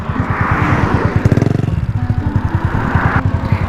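Motorcycle with a 27 mm throttle body, Click fuel injector and a cam without valve reliefs on a test ride in traffic: a close, pulsing engine putter that surges into a quick rev, then settles back to a steady lumpy beat.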